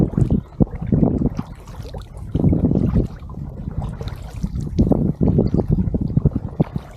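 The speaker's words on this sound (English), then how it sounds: "Go to a lake sometime and just paddle back and forth" Paddle strokes from an inflatable kayak on Lake Guntersville, Alabama, come as repeated rhythmic splashes and water swishes, close and fairly loud, with some wind buffeting the microphone.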